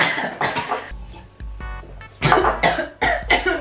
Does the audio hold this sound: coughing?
yes